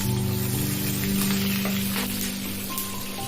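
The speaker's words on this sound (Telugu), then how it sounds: "వేగినాయి కదా, పచ్చిమిర్చి వేసుకున్నాం" Three green chillies sizzle in hot oil for a Telugu gongura dal, giving a continuous crackling fry with small spits and pops over a low background hum.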